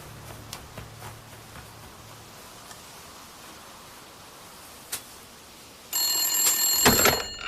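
A telephone bell rings loud and close for about a second and a half near the end, after a quiet stretch of room hiss with a few faint knocks and no voices.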